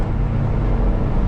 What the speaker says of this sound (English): can y'all hear the wheel bearing?